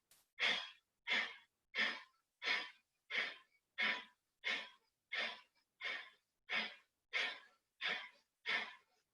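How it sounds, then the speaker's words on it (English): Breath of fire yoga breathing, a rapid even series of about thirteen forceful nasal exhales, each a short breathy whoosh with a clear pause between, close and alone without talk. "So that's that breath of fire. So forceful exhales."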